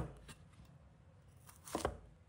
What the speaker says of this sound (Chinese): 先切掉头尾，再将其分成3段